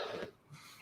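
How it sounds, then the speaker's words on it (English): A single short cough, close to the microphone, followed by a faint exhale and quiet room tone. "but I have to cough"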